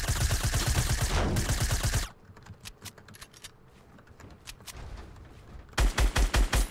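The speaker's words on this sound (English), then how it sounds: "I'm shooting at him" Rapid automatic gunfire from a Fortnite Battle Royale match comes in loud, fast, evenly spaced bursts at the start and again near the end, with quieter game ambience in between.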